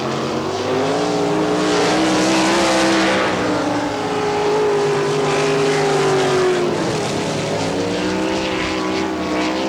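NCRA All Stars sprint race cars roar around the Wichita, Kansas speedway in 1998. The loud, continuous engine drone rises and falls in pitch as the cars pass, with no voices.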